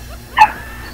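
A neighbor's dog gives one short, sharp bark or yip, fairly close and clear against a quiet background.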